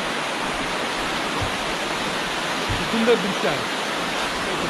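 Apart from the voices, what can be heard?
small waterfall near a village on a trek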